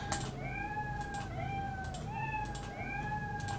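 A cat in the video game Fallout Shelter meows several times in a row, close and clear, each call a drawn-out tonal cry over a steady background hum with faint clicks.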